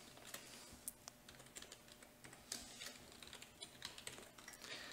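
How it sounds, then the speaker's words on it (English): Login credentials are typed on a computer keyboard, a quiet, close run of irregular key clicks and taps with brief pauses, no voice over them. "But I'm going to put in my user credentials that I've already created."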